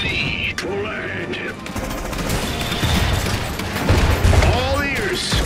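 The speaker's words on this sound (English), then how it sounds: "All guns fire. They're shooting at me." Battlefield gunfire in the strategy game Iron Harvest: rapid bursts and volleys of shots mixed with booms and mechanical clatter, dense and loud throughout, with game voices speaking over the fighting.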